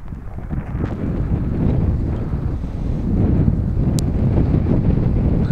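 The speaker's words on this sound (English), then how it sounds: "the wind is again in a favorable direction, but gaining in strength" Strong wind buffets the microphone outdoors at a model glider competition on an airfield, a loud continuous rumbling roar that swells and rises slightly in strength, with no voices heard.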